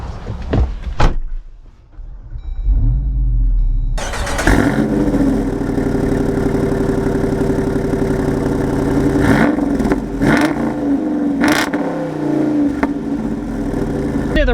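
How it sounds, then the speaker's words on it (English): Jeep Wrangler Rubicon in a driving video game, engine firing up after a door thunk and settling into a loud, steady growl, with throttle blips and revs rising near the end. "Yeah, the Wrangler definitely sounds a whole lot better, that's for sure."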